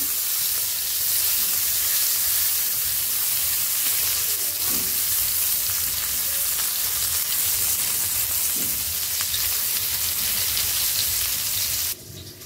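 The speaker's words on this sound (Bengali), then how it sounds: "তো পেঁয়াজগুলো একটু ভাজা ভাজা করে দেই" Onions frying in oil with cumin in a simple village kitchen, a steady close sizzle and hiss running without a break, with a few faint stirring scrapes.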